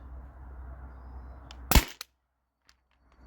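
A single sharp, loud pneumatic crack from a Byrna TCR launcher running on an HPA tank and firing 7.2 gram aluminum balls, preceded by a low hiss and followed by a brief faint click in near silence.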